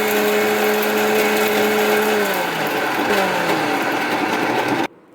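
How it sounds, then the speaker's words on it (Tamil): A mixer grinder grinds spices to powder for a sea crab pepper rasam, its motor whirring loud and steady for several seconds before cutting off abruptly. "இப்போது பவுடராக அரைச்சிட்டு வந்துடலாம்."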